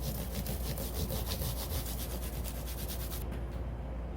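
Steady back-and-forth rasping of 1500 grit sandpaper rubbing on stainless steel guitar frets, a quick rhythmic scrubbing that continues close up and stops abruptly near the end.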